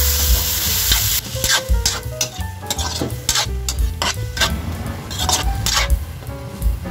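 Onion, tomato and garlic sizzle loudly in a pan for a Filipino chicken dish, with frequent close clinks and scrapes of a utensil stirring against the pan throughout.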